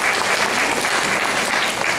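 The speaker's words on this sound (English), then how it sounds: "Give yourselves a big round of applause." PTO volunteers at a school PTO meeting applauding: a dense, steady burst of many hands clapping at once, loud and even for the whole two seconds, with no voices standing out.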